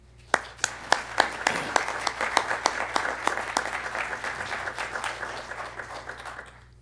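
An audience at a lecture on the American Civil War and Mormon attitudes welcomes the speaker with applause, starting with a few distinct claps that swell into steady, indoor clapping before tapering off.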